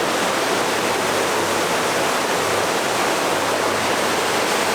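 Floodwater rushes loudly and steadily through Lydford Gorge after heavy rain, a close, unbroken roar of churning river water with no voices over it.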